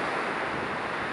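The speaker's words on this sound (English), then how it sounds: "you can listen to the waves" Ocean waves washing onto a beach after sundown, a steady broadband surf roar with wind buffeting the microphone, close and continuous without talk.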